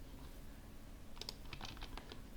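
Keys tapped on a computer keyboard while working in Revit building-design software, a brief run of light, quick clicks arriving close by over a faint steady hum.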